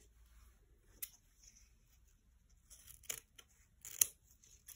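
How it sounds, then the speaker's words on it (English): Scissors snip off excess crochet yarn from a handbag, a few quiet, crisp close-up cuts spaced apart in a hushed room. "And we can cut off the excess."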